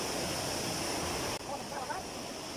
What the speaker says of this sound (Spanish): Esa es la primera cascada y aquí está el río.